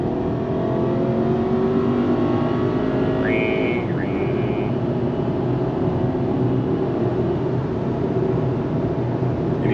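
A 2015 VW Jetta with freshly done brakes accelerates hard at full speed on an empty road, its engine note climbing in a continuous loud drone, heard from inside the cabin.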